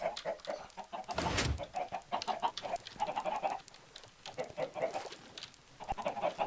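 Chickens in a video game cluck in a steady, busy stream of short repeated calls, with one louder burst partway through, fairly close and continuous with no talking over them.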